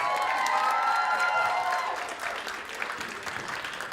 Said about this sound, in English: Let's give it a round of applause for everyone here tonight.